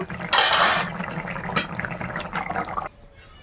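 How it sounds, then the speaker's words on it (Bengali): Cooked tamarind fish curry poured from a pot into a serving dish, a brief liquid splash and gurgle with scraping of a utensil against metal, close and fairly quiet, then fading to near silence. "আমি এবার ঢেলে নিচ্ছি একটা জায়গার মধ্যে"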